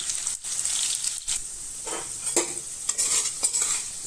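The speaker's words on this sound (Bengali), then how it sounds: "অল্প একটু নুন দিয়ে আলুটাকে ভেজে নেব।" Potatoes fry in oil with a little salt in a kadai. The close, steady sizzle is broken by brief pauses and spatula scrapes as the pieces are stirred.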